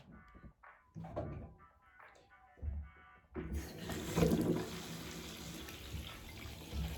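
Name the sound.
water running while washing a new tattoo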